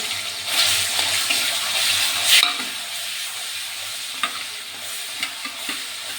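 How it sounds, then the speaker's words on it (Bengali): Garlic frying in hot oil, with a loud, close sizzle for the first couple of seconds that then settles into a quieter crackle broken by scraping stir strokes. "রসুনটা একটু ভাজা ভাজা করে নিয়ে পেঁয়াজ দেবো।"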